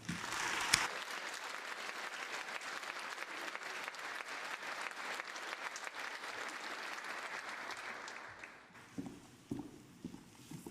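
Audience applause at a Temple University College of Science and Technology winter graduation ceremony, steady and dense for about eight seconds before it thins out into a few scattered claps.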